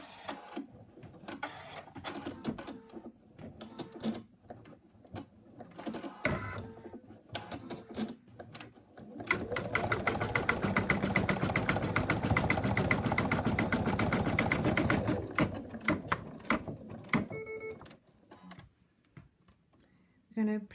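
A sewing machine stitches fabric for an embroidery project, a fast steady whir running for several seconds in the middle, with talking before and after it and brief handling noises.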